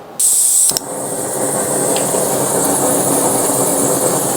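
A BRS 3000T pocket stove burns in simulated wind, giving a loud, steady roaring hiss from the flame after a brief click at the start, with no talking.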